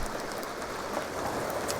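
Steady rainfall in the video game The Sims 2, a dense even hiss of drops pattering on surfaces with no voices over it.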